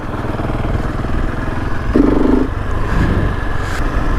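A big new motorcycle on its first ride, with no aftermarket exhaust fitted. Its engine hums steadily and fairly loud from close by. A short, louder rev swells near the middle and eases off again.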